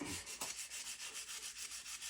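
Sandpaper rubbing along a wooden axe handle while cleaning up a burned-in brand, a steady run of quick back-and-forth strokes, close and fairly quiet, with no talking.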